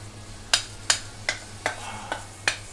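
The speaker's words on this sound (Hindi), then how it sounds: "अब मैं इसमें ये चावल मिला दूंगी।" Soaked rice stirred into boiling water in a pan for Sindhi fenugreek pulao, six distinct scraping, splashing stir strokes in an even rhythm over a steady low hum from the gas stove.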